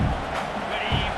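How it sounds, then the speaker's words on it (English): A stadium crowd in the EA Sports College Football 26 video game gives a continuous, dense roar that swells slightly during a brief moment. "This crowd, full throat, splitting the eardrums"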